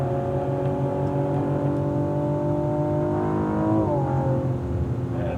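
A 2016 Cadillac ATS-V on a race track, its engine droning steadily from inside the car, then the pitch dips as the throttle eases off near the end, loud and continuous.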